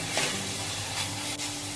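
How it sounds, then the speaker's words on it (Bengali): Broiler chicken pieces frying in oil in a pan give off a steady, faint sizzle with soft stirring scrapes, close by and without talk. "তো আমার মোটামুটি ভাজা হয়ে যাচ্ছে, দেখতেই পাচ্ছেন উপরে তেলটা ভাসতেছে"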